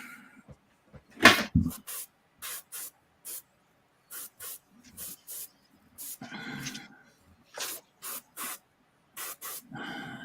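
A spray nozzle with a plugged tip fires in short, sharp hissing bursts, a dozen or so with irregular gaps between them, close and loud, and a voice briefly talks between bursts.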